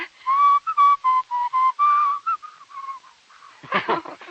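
Someone whistles a short tune, clear and close, with bright wavering notes in a bouncy rhythm, ending with a breathy rustle.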